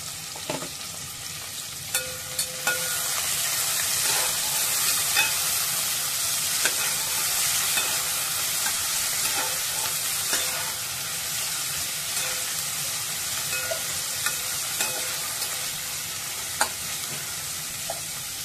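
Whole spices, onion and curry leaves fry in hot oil for masale bhat. A steady, loud sizzle holds throughout, punctuated by occasional sharp ticks and clicks from stirring.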